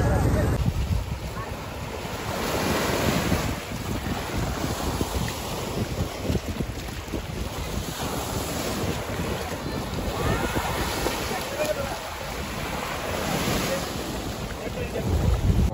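A boat travels across Tanguar haor, a wetland in Bangladesh, with a steady rush of water and hull noise mixed with heavy wind buffeting the microphone, continuous and close throughout.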